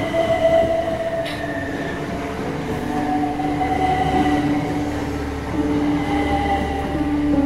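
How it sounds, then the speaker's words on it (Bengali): A train starting to depart, with a continuous rumbling rolling sound and drawn-out tonal wheel squeals rising over it, steady and fairly close. "ট্রেন এক্ষুনি শুরু হয়ে যাবে, এক্ষুনি ছাড়বে।"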